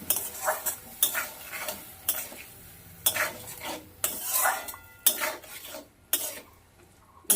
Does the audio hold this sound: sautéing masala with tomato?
yes